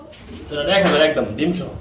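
Musaldom pigeons on a farm give a close, low, rolling coo that swells and fades over a couple of seconds.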